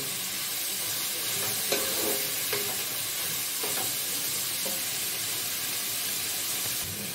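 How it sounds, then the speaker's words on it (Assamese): Dal frying in a pan with a steady broadband sizzle and occasional stirring scrapes, close and fairly quiet, continuing without speech. "এইখিনি আৰু মই অলপ দেৰি ভাজিম এনেকৈ।"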